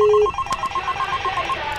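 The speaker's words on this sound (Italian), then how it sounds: "Sta squillando." Telephone ringing in a 3D animated cartoon, a steady electronic ring repeating in short even pulses, clear and fairly loud after a brief opening tone, with no talk over it.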